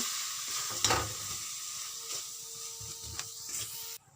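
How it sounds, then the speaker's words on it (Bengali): Powdered soya chunks worked into a fried spice masala, soft spoon scrapes and clicks over a gentle frying sizzle, close and fairly quiet, no voices. "এবার দিয়ে দেবো সনাগেটসের গুঁড়ো এটাকে আমি মিক্সিতে গুঁড়ো করে নিয়েছি নিয়ে ভালো করে মশলার সঙ্গে মিশিয়ে নেব"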